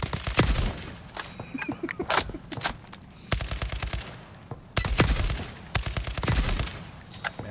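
Rapid bursts of in-game gunfire from a heavy-recoil weapon in ALARA Prime, loud and close, coming in several clusters of quick shots separated by short pauses.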